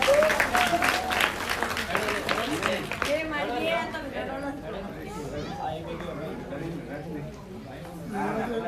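A crowd at a village primary school event applauds loudly for a teacher couple for about three seconds, then the clapping fades into voices and general chatter.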